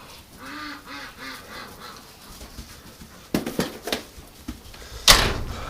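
Muscovy ducks and geese call and honk in a winter yard, soft at first, then louder and close, with a few sharp knocks and bumps from a door nearby.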